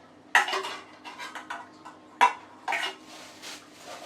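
Metal camping cookware, frying pans and pots, knocked and clattered together in several sharp, close clanks with lighter scraping between them.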